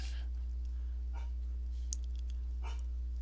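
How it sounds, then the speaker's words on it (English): A dog barks in short bursts a few times, fairly faint and distant, over a steady low electrical hum in an indoor room. "so he feels it's his duty to join in, and he doesn't believe in a little bark"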